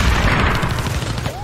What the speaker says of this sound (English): That explosion probably attracted attention